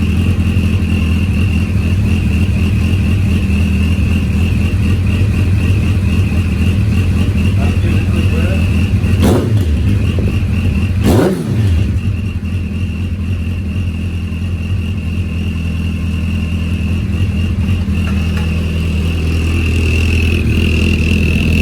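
A turbocharged Hayabusa motorcycle engine idles and blips with a few sharp revs, and a steady high turbo whistle rides above the rumble; close and moderately loud, with no talking.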